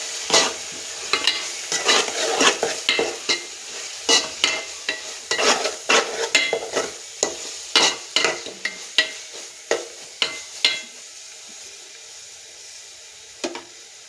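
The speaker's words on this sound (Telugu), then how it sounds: "అలాగే కొంచెం గరం మసాలా కూడా వేస్తున్నాను. ఇదంతా ఒకసారి బాగా కలుపుకుందాం." Spices with garam masala being stirred in a pan for a fish iguru: a run of sharp, rhythmic scraping strokes over a soft sizzle, close and fairly loud, thinning out toward the end.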